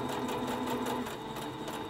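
Sewing machine back stitching through fabric for a 3D octagon face mask, a steady close whirring run of rapid stitches for the full two seconds.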